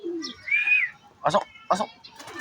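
Soft pigeon coos and a few short calls at a loft as racing pigeons return from training, with brief bursts of a voice speaking between them.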